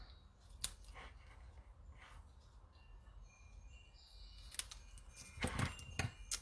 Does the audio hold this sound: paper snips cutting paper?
yes